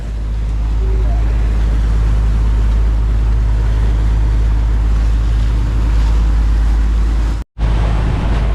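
A boat travelling on choppy sea near Maasin, Leyte, with a loud steady engine drone and constant rushing wind and water noise close by, cutting out for a moment near the end.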